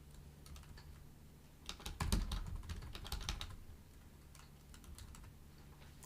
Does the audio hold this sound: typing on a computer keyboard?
yes